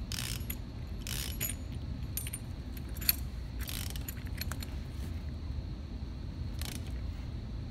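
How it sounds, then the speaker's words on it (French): A hex socket screw is tightened to lock a brake-pipe flaring die in a vise, giving faint, scattered metallic clicks and rattles in short bursts over a quiet background hum. "bien resserrer la vis BTR afin tout simplement de bloquer la matrice au maximum"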